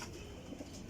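High-quality Sialkoti flying pigeons, netted-pattern birds, give soft low cooing over a steady noisy background, brief and fairly quiet with no talk.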